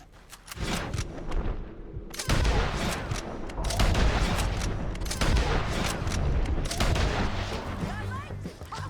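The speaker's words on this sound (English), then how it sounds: "Let's just start shooting." Gunfire in the Red Dead Redemption 2 video game: dense, loud bursts of shots and booming reports that roll on almost continuously after a brief quieter start, with voices speaking now and then underneath.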